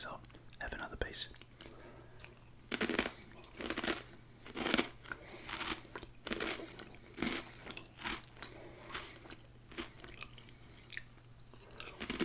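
Grain Waves chips being crunched up close, sharp crisp bites and chewing recurring irregularly, with soft whispering between the crunches.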